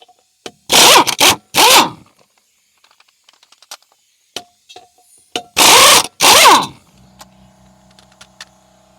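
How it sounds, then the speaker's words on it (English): An impact wrench with a 13/16 socket on an extension removes rusty lug nuts from a livestock trailer wheel, firing in two pairs of loud, short rattling bursts separated by quiet gaps with small clicks and handling noises. "My impact wrench here. We'll just go and zip it off of here."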